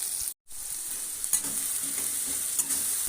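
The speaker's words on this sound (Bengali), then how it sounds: "পাঁচটা ছটা মতন কাঁচা লঙ্কা দিয়েছি। সেটা ভাজা হোক" Five or six green chillies fry in a pan with a continuous bright sizzle and occasional soft stirring knocks, close up, broken briefly by a short cut of silence near the start.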